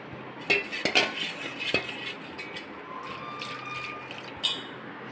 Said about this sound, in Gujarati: તપેલામાં દાળને લીધા બાદ આપણે દાળને સારી રીતે ઝેરી લેવાની છે.